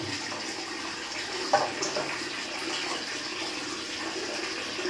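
A bathroom tap runs steadily while someone washes their face, giving a continuous hiss of water with a small splash partway through.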